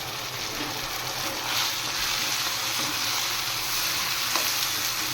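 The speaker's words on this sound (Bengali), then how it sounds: "হালকা একটু ফ্রাই করে নেব" Chilli chicken sauce with a little salt frying lightly in a pan, a steady close sizzle and hiss running the whole time with faint stirring scrapes and no voices.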